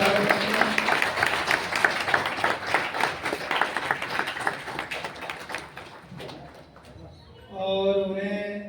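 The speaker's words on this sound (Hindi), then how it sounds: "तालियां बजा के उनका स्वागत करते हैं।" An audience claps in welcome at a Buddhist Dhamma Chakra Pravartan Day gathering, a steady patter of hands that thins out and fades, followed by a short burst of voices near the end.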